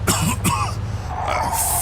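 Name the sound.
man coughing in video game Mafia II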